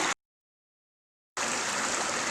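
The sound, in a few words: creek flowing water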